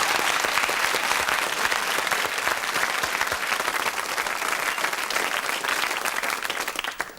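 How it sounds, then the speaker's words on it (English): A 1970s British TV quiz show's studio audience gives a sustained round of applause, dense and even throughout, fading out at the end. "Round of applause."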